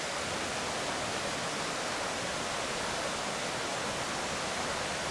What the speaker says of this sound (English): look at this nice waterfall